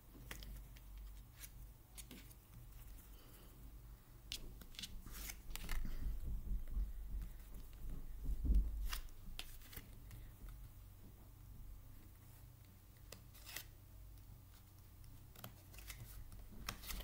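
A deck of oracle cards is split in two and shuffled, soft papery riffles and flicks close by, with a denser burst of shuffling in the middle and scattered light taps, no talking.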